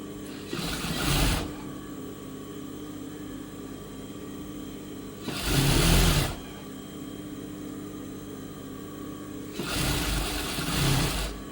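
Domestic sewing machine stitching a folded fabric strip onto a blouse, three short whirring bursts of running motor separated by pauses, close up over a low steady hum.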